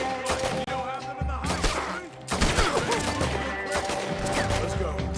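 Bursts of gunfire from a Red Dead Redemption 2 shootout, scattered sharp shots over a busy game score, with loud volleys in several clusters through the scene.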